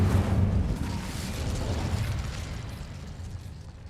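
The Incendio fire spell cast in Hogwarts Legacy, a deep, rumbling, explosive whoosh that starts loud and gradually fades over several seconds.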